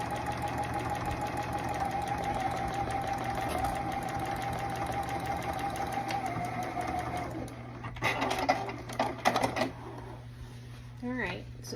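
Sewing machine stitching a bulky denim jacket with the presser foot pressure turned down, a fast steady whirring chatter that runs for several seconds, then stops and gives way to handling noises and brief rustling.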